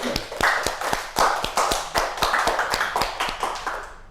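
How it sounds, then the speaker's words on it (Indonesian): A small classroom group claps in a quick, fairly even rhythm, with sharp individual hand claps close by that continue for about four seconds with no talking. "Kita beri tepuk tangan."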